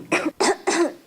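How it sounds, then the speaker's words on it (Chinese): Three sharp coughs from one person, close and clear in quick succession, each a short harsh burst with brief silence between. "轻轻一咳，威力到底多惊人？"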